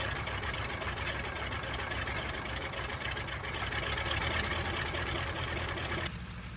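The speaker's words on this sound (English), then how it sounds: "I'm just getting my engine warmed up." A Stearman biplane's piston engine warms up on the ground, a steady, loud, rumbling drone that holds without a break before dropping off abruptly near the end.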